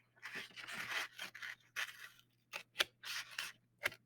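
Scissors snip through a cardboard egg carton in quick, crisp bursts close up, a cluster of short cuts followed by a few sharper isolated clicks, all in a quiet room.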